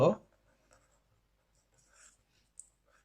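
A pen scratches out a maths solution for a primary-school percentages problem in faint, scattered strokes, after a brief burst of voice at the start.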